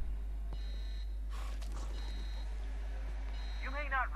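A station lockdown alarm in the video game The Outer Worlds sounds as repeated high-pitched electronic tones, each lasting about half a second and spaced apart, over a constant low hum, with a voice briefly speaking near the end.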